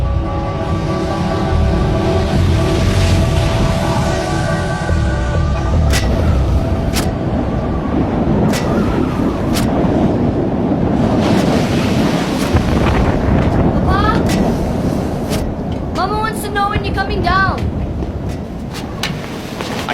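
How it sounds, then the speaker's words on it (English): Dramatized explosions of the 1883 Krakatoa volcanic eruption boom and rumble loudly throughout, a dense continuous roar with deep thuds, layered with eerie tonal sounds and creaks. "A series of booms could be heard hundreds of miles away."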